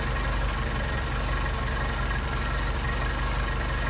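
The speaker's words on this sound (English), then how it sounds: "Hear the engine pick up." A 190SL classic car engine with a Solex carburetor idling steadily and loudly up close during carburetor adjustment, a constant rumbling drone with no clear rise in pitch.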